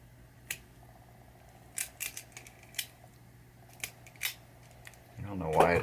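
A wire stripper cuts and strips old wire on a Bally Weebly rectifier board, giving a handful of short, sharp snips and clicks spaced apart, close and quiet over a low hum, before a louder rustle at the end.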